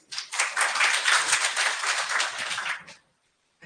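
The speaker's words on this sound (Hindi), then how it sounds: "ताली बजाओ एक बार लड़कियों के लिए" A class of students claps together for the girls in a classroom, a dense burst of applause lasting nearly three seconds before stopping abruptly.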